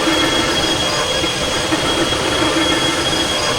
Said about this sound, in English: So, that's a blow-down valve. Let off some pressure.